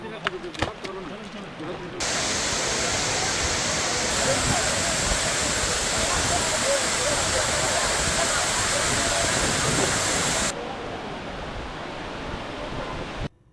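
Dhuppani Waterfall in Rangamati, Bangladesh, dropping about 150 feet down a rock wall, roars in a dense, continuous rush of falling water, loud and close, then drops back to a softer background wash.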